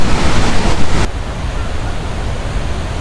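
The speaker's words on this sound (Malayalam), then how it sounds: "ഇവിടെയൊക്കെ നല്ല രീതിക്ക് വെള്ളം വീഴുന്നുണ്ട് നമ്മുടെ പുറത്തേക്ക്." Spray from Athirappally waterfall in Kerala falling on visitors, a loud, continuous broadband rush like heavy rain close to the microphone, louder at first and then steadier.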